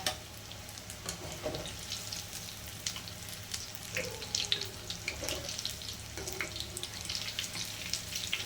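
Pakoda frying in hot oil in a pan, a steady faint sizzle with soft crackles and occasional bubbling pops, close and continuous with no talking.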